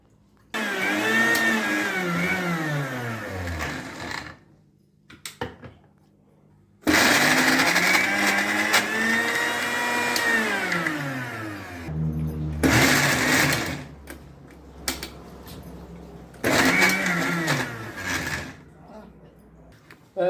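Mixer grinder coarsely grinding soaked lentils for a beans and lentil dish, running in several loud bursts with motor pitch rising and falling, separated by short pauses and brief rattling between pulses.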